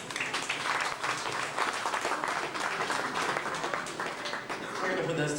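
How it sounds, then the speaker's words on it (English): Audience applause at a studio backlot tour stunt show, a dense, steady wash of many hands clapping at moderate distance for several seconds, swelling slightly at the end. "Let's give a nice round of applause."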